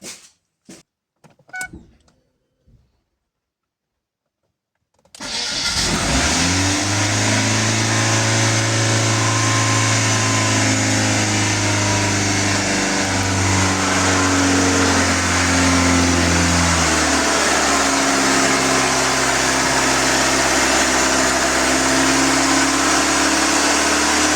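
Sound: Ford Focus car engine started, idling high and revving

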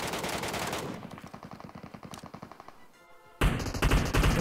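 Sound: gunfire in the video game Metro Royale

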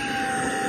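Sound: Tineco iLoop S10 cordless vacuum cleaner running

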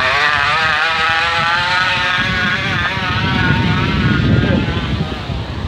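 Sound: bicycle with a bottle against the wheel making engine noise

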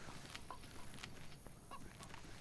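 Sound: chicken clucking in the video game DayZ

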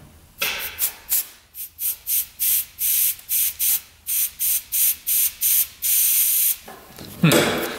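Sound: air compressor blowing air through sled lines

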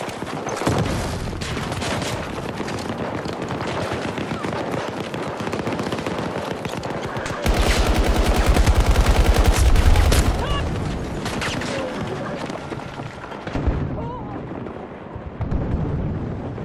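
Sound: gunfire in the video game Battlefield 2042

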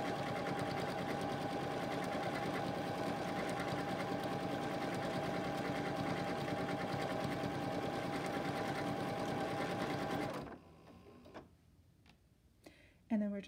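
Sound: Continental M17 sewing machine stitching decorative stitches

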